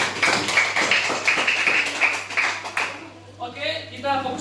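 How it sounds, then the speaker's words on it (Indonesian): Children in a class clap their hands in a quick run of sharp, fairly loud claps that fade after a few seconds, followed by brief background voices. "Coba tepuk tangan dulu."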